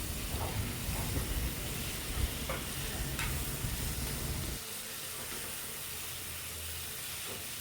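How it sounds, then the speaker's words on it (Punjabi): Fried potatoes stirred in a hot pan, a dense sizzling hiss with scraping under it that drops to a quieter, steadier frying sound partway through. "ਆਪਣੇ ਆਲੂ ਜੋ ਆਪਾਂ ਫਰਾਈ ਕਰਕੇ ਰੱਖੇ ਹੋਏ ਸੀ ਇਸ ਨੂੰ ਆਪਾਂ ਚੰਗੀ ਤਰ੍ਹਾਂ ਹਿਲਾ ਦੇਵਾਂਗੇ"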